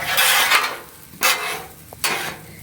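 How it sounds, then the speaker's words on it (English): Jambalaya with rice and butter being mixed on a Blackstone griddle, a metal spatula scraping the flat top in three loud strokes separated by short pauses, with no voices. "Go ahead and get mix this all in here. Mix it good."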